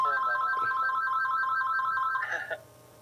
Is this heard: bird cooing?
no